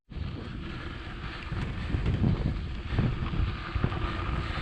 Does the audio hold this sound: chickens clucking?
no